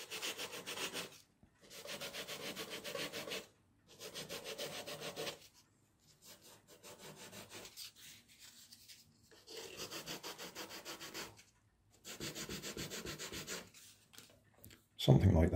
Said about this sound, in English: So it might pay me to rub them down a little bit as well